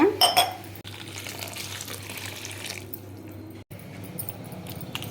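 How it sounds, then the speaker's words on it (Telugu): Dried shrimp shells are rinsed by hand in a bowl of water for a Godavari-style gongura curry, giving steady close splashing and sloshing with brief clatter of the bowl throughout. "దీన్ని ఇప్పుడు వాటర్ వేసి శుభ్రం చేసుకోవాలన్నమాట."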